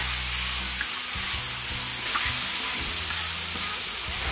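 Scallions and diced tomatoes sizzle steadily in hot oil in a wok, a loud, continuous frying hiss with faint stirring scrapes, no talking.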